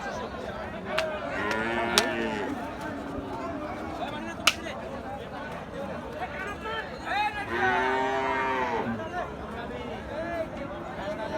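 A bull weighing about seven maunds bellows at a busy cattle market, with two long, deep moos close by and a crowd of voices talking underneath.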